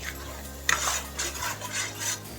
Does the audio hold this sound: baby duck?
no